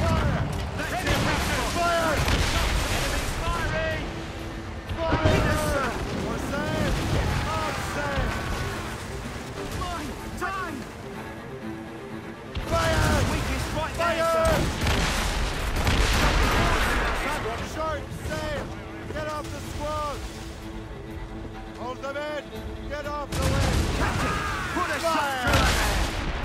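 Naval cannon fire in an Assassin's Creed Rogue sea battle: repeated heavy booms and volleys in several bursts, mixed with game voices shouting orders and background music throughout.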